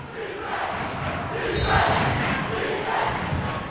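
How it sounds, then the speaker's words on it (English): Students in a high school gym chanting defense during a varsity boys basketball game between Waynesville and St. Louis Christian Academy: a loud, rhythmic crowd chant swelling under an announcer's commentary, with faint squeaks and bounces. "And a chant of defense."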